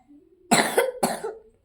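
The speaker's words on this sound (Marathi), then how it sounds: "खोकला बी जात नाही आहे तिचा" Two harsh coughs in quick succession, close and clear, preceded by a faint voiced sound; a sick girl coughing.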